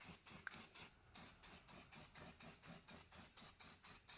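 Short bursts of aerosol spray paint hiss onto a car wheel or hubcap, repeating in a steady rhythm, about three per second, quiet and close, with one brief pause near the start.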